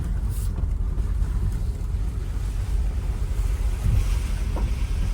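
A car drives through deep standing water on a road, a steady low rush and wash of water mixed with rumbling wind noise, fairly loud and continuous with no voices.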